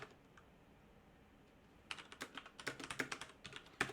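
Typing on a computer keyboard starts after a quiet pause, a quick, uneven run of close key clicks at moderate loudness, with no voices.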